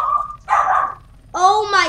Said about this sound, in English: She's so barking.